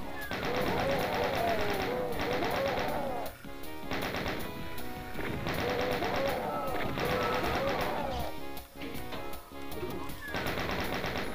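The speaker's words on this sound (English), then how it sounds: "I'm using this chain gun as sort of a monster detector" Rapid chain gun fire in Doom comes in long sustained bursts over game music and effects, loud and continuous with short breaks, and a voice talks over it.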